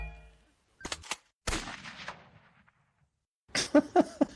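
Sharp gunshot cracks in a video game: a couple of quick blasts, a louder shot with a trailing rumble, then a final cluster of bursts, with silent gaps between.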